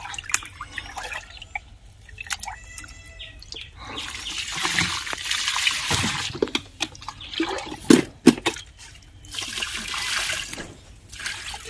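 Water mixed with fertilizer is poured onto rose plants, giving irregular splashing, trickling and dripping across the whole stretch, with louder pours in the middle, close by and with no talk.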